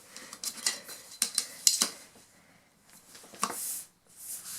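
Paper for an accordion binding is cut in a few short bursts of crisp snipping and scraping, close and fairly quiet, with brief pauses between the cuts.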